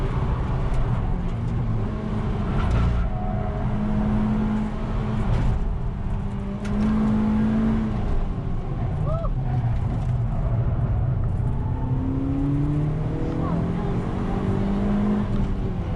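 A Suzuki Swift Sport on the Cadwell Park race track, coming through Hall's Bend onto the start-finish straight, its engine droning loud and unbroken as the pitch rises and falls with each change in speed.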